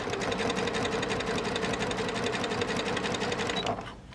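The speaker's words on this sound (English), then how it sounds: "I'm going to ease this gusset in" Sewing machine stitching steadily as a curved gusset is eased into a sling bag, a dense rapid needle rhythm running close and continuous for nearly four seconds before stopping abruptly.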